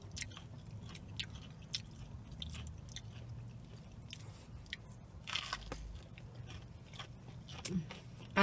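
Close, quiet biting and chewing of a crunchy KFC Zinger sandwich, with repeated sharp crunches and crackles over steady chewing and no talk.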